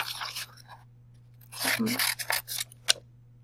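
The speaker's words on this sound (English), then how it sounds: "after cutting my pieces up, I have 4 squares" Scissors cut a paper sheet into squares in a classroom, giving close, scattered snips and rustles in short irregular bursts after a quiet start.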